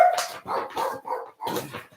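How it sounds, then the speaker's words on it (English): A dog barks indoors in four loud, close, sharp barks spaced unevenly over a couple of seconds, with no talking. "Sorry about the dog barking."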